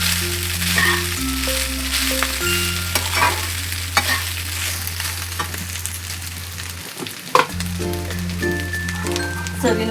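Cooked rice is stirred and mixed in a pan for jeera rice, with repeated scraping strokes over a soft sizzle and a few sharp knocks, close by.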